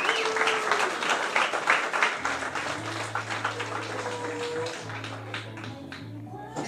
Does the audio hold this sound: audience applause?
yes